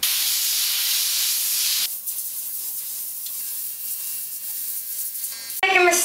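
Airbrush spraying black paint onto a black t-shirt, a steady close hiss that cuts out and returns in short bursts, with no voices.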